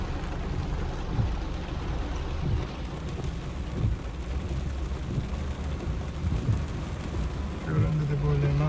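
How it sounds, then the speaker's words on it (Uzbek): Heavy rain pours down steadily, a dense continuous hiss heard from inside a vehicle, with low rumbling underneath and no clear speech. "yomg'ir kuchayib ketdi"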